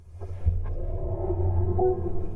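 Start-up chime of a BMW XM super SUV, composed by Hans Zimmer: a low, droning synthetic tone with a soft rising swell, sustained and moderately loud inside the cabin.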